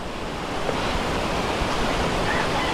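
Continuous rushing water at Pinaputukan Falls in Antipolo, Philippines, a broad steady roar close by, with no voices.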